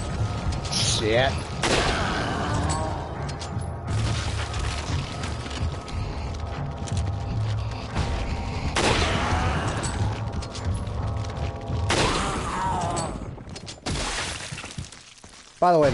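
Explosions and shattering bursts in the Resident Evil 4 video game, several loud crashing impacts spread across the scene, mixed with game effects and occasional speech.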